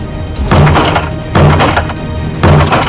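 Three heavy thuds of something ramming a door, spaced about a second apart, each with a rattling wooden crack.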